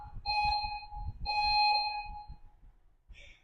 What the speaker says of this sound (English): Maybe I'll change that alarm.